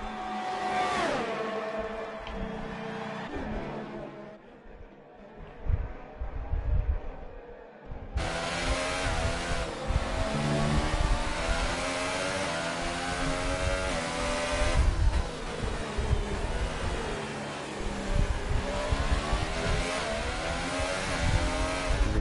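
Race cars running side by side in a racing video game on a Belgian track, engines screaming loud and close, revving and shifting continuously with a sudden surge as another car roars in.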